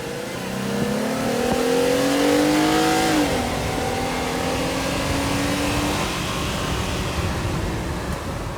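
A 2018 Jeep Wrangler JLU Rubicon launches hard from a brake boost, its engine note climbing loudly through a gear change and then settling into a steady roar with road noise, close and alone.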